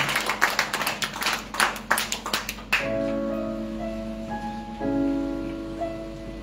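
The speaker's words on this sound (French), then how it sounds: "acclamer les invités d'honneur et décrocher vraiment sous des acclamations?" A congregation at a church service clapping in a quick, uneven rhythm for guests of honour, lasting under three seconds before giving way to sustained organ-like tones.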